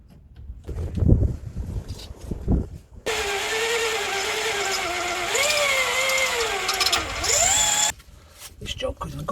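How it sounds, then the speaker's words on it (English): Power drill boring out a snapped brake-disc bolt on a courier vehicle, bursts of grinding whine that rises and falls in pitch under load, broken by short pauses and clanks of handling nearby. "now I'm drilling it out"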